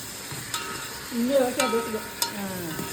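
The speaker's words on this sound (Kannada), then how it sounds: "ಈರುಳ್ಳಿನ ಚೆನ್ನಾಗಿ ರೋಸ್ಟ್ ಮಾಡ್ತಾವ್ರೆ" Onions roast in a pan over steady sizzling, with a few sharp stirring scrapes and knocks close by.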